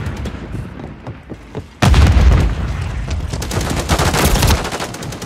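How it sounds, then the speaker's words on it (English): Grenade blasts in the multiplayer shooter Call of Duty MWIII: quieter scattered gunshots first, then a sudden loud explosion that rolls into a sustained rumble of booms and heavy gunfire, with no speech. "Stun grenade out! Grenade out!"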